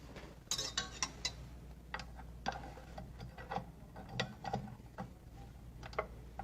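A stand mixer whisk mixing granulated sugar at slow speed, a faint low motor hum under gritty rattling and ticking from the whisk and sugar in the bowl, no talking.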